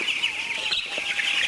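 Sixteen-day-old broiler chicks in a poultry farm chirping in a dense, continuous chorus of high peeps, close and steady, with no talking.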